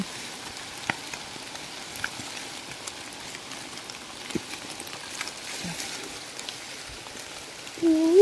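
Heavy rain falling outdoors during mushroom foraging, a steady fine patter with scattered louder drops spread evenly throughout.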